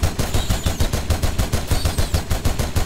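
A mounted machine gun in an Unreal Engine 4 game fires a steady, rapid stream of loud, evenly spaced shots, close and continuous, with no voices.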